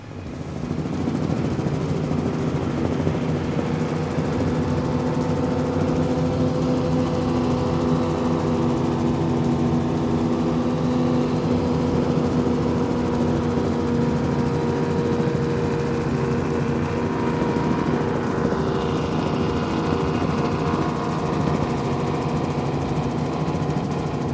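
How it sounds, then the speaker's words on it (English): A 38-foot Cigarette Top Gun powerboat with twin Mercury Racing 525 engines, running in a creek during the Key West Poker Run, gives a steady, loud, deep engine drone that holds throughout without talk. "Let's listen in on this 38-foot cigarette Top Gun powered by Mercury Racing 525s"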